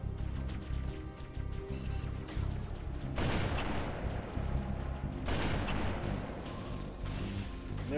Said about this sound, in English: Get on a turret, and then immediately another turret starts shooting at me